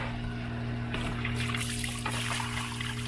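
Water trickles and splashes out of a hand pump being primed, a soft, continuous dribbling over a low steady hum, fairly close.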